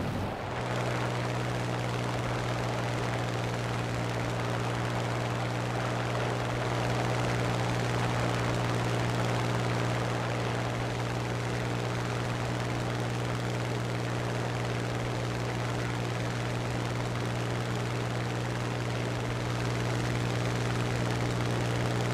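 A Ki-45 propeller plane in a video game flies under a steady, loud, droning engine note with strong low hum. It holds unbroken for over twenty seconds with no voices.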